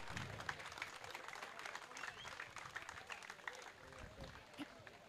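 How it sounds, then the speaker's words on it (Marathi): Crowd applause for the Padai team as it receives third prize at the Samvedi Adani Cup 2024 prize distribution ceremony, a faint, steady patter of clapping with voices talking over it. "जोरदार टाळ्या होऊन जाऊ द्यात पडई संघासाठी."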